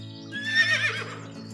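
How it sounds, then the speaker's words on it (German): A horse whinnies once near a farm field in a Playmobil toy story, a brief rising and falling neigh over a steady low electronic hum. "Da sind Pferde."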